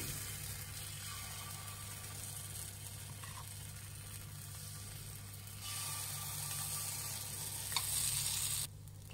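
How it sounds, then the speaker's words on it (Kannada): Sweet paddu batter sizzles steadily in a hot paddu pan over a medium flame, a continuous soft frying hiss with faint scraping clicks from cooking utensils. "ಮೀಡಿಯಂ ಫ್ಲೇಮಲ್ಲಿ ಇಟ್ಟು ಇದನ್ನ ಬೇಯಿಸಬೇಕು, ಇಲ್ಲಾಂದ್ರೆ ಕಲರ್ ಬಂದ್ಬಿಡುತ್ತೆ ಮೇಲೆ, ಒಳಗೆಲ್ಲ ಬೆಂದಿರಲ್ಲ."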